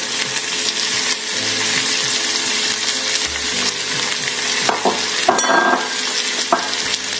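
Garlic goes into a hot pan and sizzles loudly and steadily, with stirring scrapes and a few light utensil clinks close by.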